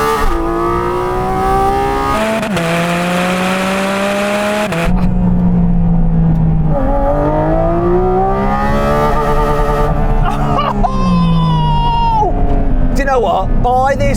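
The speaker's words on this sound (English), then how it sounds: "Just listen to the note change here when it goes from 8 through to 9." A Porsche GT4 RS engine screams steadily and loudly, revving to 9000 RPM, its pitch climbing and shifting through gear changes, with a brief drop and surge partway through.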